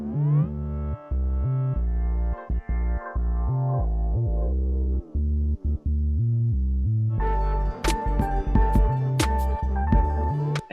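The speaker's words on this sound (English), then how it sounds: "I automated some of the remix effects, basically just to do like a filter sweep" A produced beat with an automated remix-effect filter sweep: a sustained harmonic synth drone with brief dropouts, then the beat returns brighter and fuller with sharp percussive hits over steady bass.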